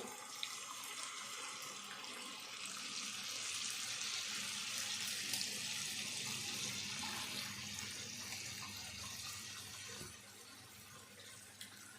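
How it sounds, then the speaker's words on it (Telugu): Tamarind soup pours into a pot of raw fish curry in a steady, continuous liquid stream that runs for several seconds. "ఇప్పుడు చింతపండు సూప్ పోసుకుందాము"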